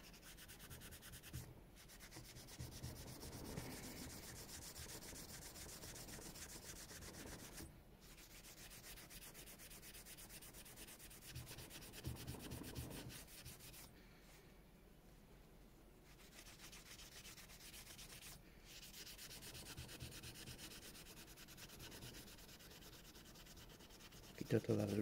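Soft abrasive pad rubbing and polishing carbon deposits off the gasket seating surface of a Honda TRX 400 quad engine, a steady close scrubbing sound in repeated strokes with brief pauses, no talking.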